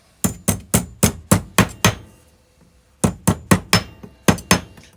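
A hammer strikes metal while knocking dents out of an old bicycle brake part: two bursts of sharp, ringing blows, seven or eight in quick steady rhythm, then a short pause and about six more, loud and close.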